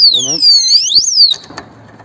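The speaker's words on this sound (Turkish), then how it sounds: "Şöyle hareket ettirince alarm çalıştı şu anda." A piercing electronic alarm from a motorcycle disc lock, set off by moving it, wails with sweeping, warbling tones, loud and close, then cuts off abruptly into faint rustling.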